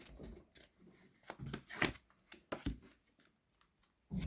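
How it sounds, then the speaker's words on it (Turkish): Tarot cards are drawn and shuffled close by in a quiet room, giving soft, crisp riffling and slapping card sounds in irregular bursts. "aklınızdaki kişiye niyeten 5 tane kart çekeceğim"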